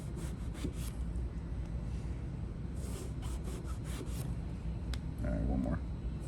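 A knife slices through eggplant on a cutting board, close by, with a run of soft, rasping sawing strokes and light taps in quick succession.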